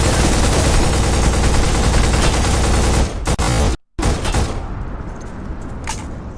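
Loud full-auto gunfire from the shooter game Black, a dense, unbroken automatic burst that rattles on for about three seconds, then a few lone shots, a sudden cut to silence and a fading tail of echoing reports.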